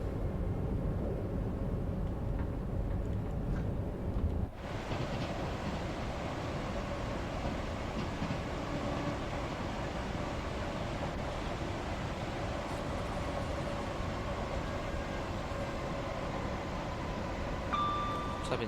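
London Overground Class 710 electric train running at speed on third-rail DC track in a train simulator game, a steady rumbling and rushing drone throughout with a brief dip partway, moderately quiet and continuous with no voices.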